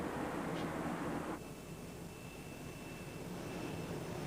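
A military airplane taking off or landing at Torrejón air base makes a loud, broad engine roar that drops to a steady, quieter rumble partway through, with no voices.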